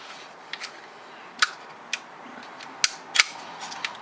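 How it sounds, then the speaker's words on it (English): A 3D-printed pistol from a 22LR prop set being dry fired, sharp isolated mechanical clicks and snaps spaced irregularly over a few seconds, close and crisp against a quiet background. "let's just keep on dry firing a little bit"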